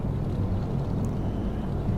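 The left engine of a DC-3 spools up in the X-Plane 11 flight simulator, a steady low droning rumble that holds even and loud throughout.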